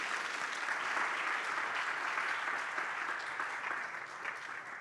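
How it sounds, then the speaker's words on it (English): An audience at an innovation summit pitch competition applauds three judges, a sustained wash of clapping heard from within the room that holds steady and then eases slightly toward the end. "Please give them a round of applause, all 3 of our judges."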